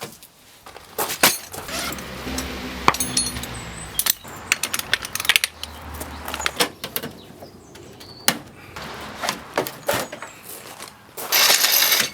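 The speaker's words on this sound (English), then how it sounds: "let's jack this up, get the wheel off" A car is jacked up and its wheel removed during a tyre change, with close clicking, ratcheting and metallic clanks in uneven bursts and a brief rattling rush near the end, with no talking.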